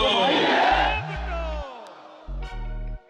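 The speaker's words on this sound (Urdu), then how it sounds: "نعرے" A large crowd chants slogans in unison at a Pakistan Peoples Party election rally in Karachi, with loud massed voices surging and then fading, and a deep, steady horn-like tone sounding twice beneath the chanting.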